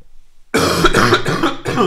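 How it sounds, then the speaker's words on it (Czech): A man with a lingering cold coughs three or four times in a close, loud, rough burst after a moment of near silence. "Pardon, já jsem byl ještě trošku nachlazený, takže občas si trošku odkašlu."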